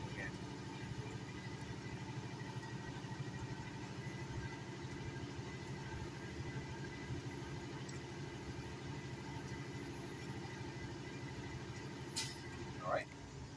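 Truck diesel engine held at about 1500 RPM to recharge the air brake system, a steady continuous drone throughout, close and loud, with a brief higher hiss or squeal near the end.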